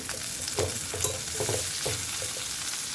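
Onions frying in oil with cinnamon, bay leaf and cardamom, a steady close sizzle broken by several soft stirring scrapes at irregular moments.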